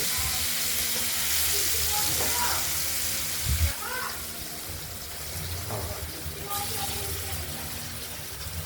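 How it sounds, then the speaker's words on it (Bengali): Pieces of katla fish fry in hot oil in a pan, giving a steady hiss and crackle throughout, with a clunk partway through, small splutters and a voice talking over it. "এবার মাছগুলোকে এক এক করে ভেজে নেব"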